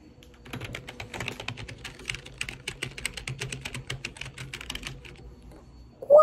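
Rapid clicking keystrokes on a new Razer gaming keyboard patter nearby in a fast, even run, fairly quiet, ending with a short louder noise.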